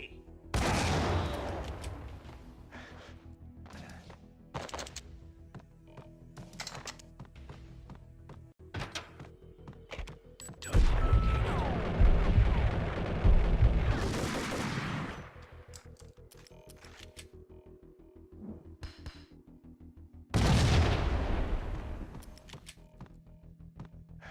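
A grenade blast and gunfire in the video game Max Payne: sharp, rapid shots are scattered throughout, with a loud, sustained explosion burst in the middle and another heavy blast near the end.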